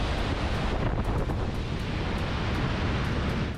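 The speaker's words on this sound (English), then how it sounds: "The mile-wide Zambezi River crashes over a 105-meter deep cliff at the border between" Thunderous roar of Victoria Falls as the mile-wide Zambezi River plunges over a 105-meter cliff on the Zambia–Zimbabwe border, a dense, steady wash of crashing water with wind buffeting the microphone, loud and continuous throughout.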